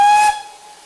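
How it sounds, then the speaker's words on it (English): GWR steam locomotive warning whistle, a short loud shrill blast with a hiss of steam, cut off abruptly after a fraction of a second and leaving a fading ring. "warning whistle"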